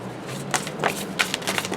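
Soft, rapid papery riffling of tarot cards being shuffled, a few crisp bursts close by, with no talking.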